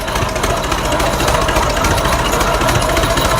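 A 1917 tractor being pulled uphill during a parade, a loud, continuous rattling engine chug with a steady mechanical pounding, close and unbroken.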